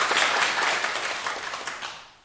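An audience applauds at a lecture hall talk, a short burst of dense clapping that fades out toward the end.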